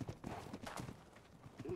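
A horse's hooves clip-clop in the video game ARK, a few soft, muffled beats, quiet and fairly close.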